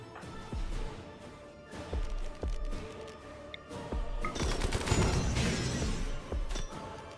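Rapid gunfire from a minigun in the video game Inquest of the Dead, with dense bursts and crashing impacts building to a loud, sustained barrage near the middle and end, plus scattered thuds and clinks.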